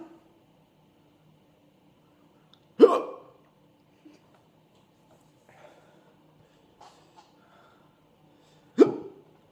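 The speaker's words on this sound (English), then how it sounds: "Thankfully, the hiccups have slowed down." Two sharp, isolated hiccups about six seconds apart, loud and close, with near silence between them apart from faint small sounds.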